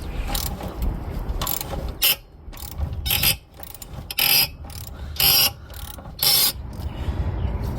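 Ratchet wrench backing exhaust bolts off a Honda GX160 small engine, with bursts of sharp rapid clicking separated by quieter pauses, close up and with no talk.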